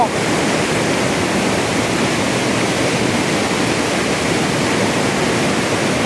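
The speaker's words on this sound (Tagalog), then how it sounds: "San Telmohan Falls pala ito." San Telmohan Falls in Barangay Caminto, Leyte, a waterfall giving a loud, steady, broadband rush of falling water that stays constant and close throughout, with no voices.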